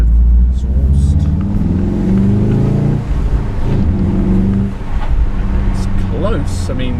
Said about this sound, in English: Tone of exhaust.